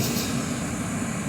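A GE dehumidifier, model ADEL30LRQ2, with a single-phase motor and R14A refrigerant, runs at maximum setting, giving a steady, even hum and airy whoosh with no break.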